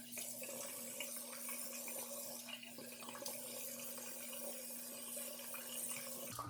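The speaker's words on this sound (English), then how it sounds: "I'm going to apply hot water to my head." Hot water running steadily from a tap and splashing as it is applied to a head before shaving, a continuous close wash of water with no talk.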